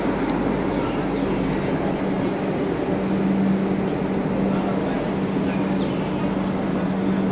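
A Barbil Jan Shatabdi train stands at Ghatshila station, a small-town stop. A loud, steady rumble with a low engine hum fills the whole stretch, close and constant, with no break.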